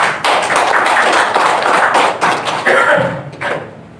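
Applause at a talk show event in Jepara, a dense burst of many hands clapping close by that runs for a few seconds, fades briefly, then rises again before dying away.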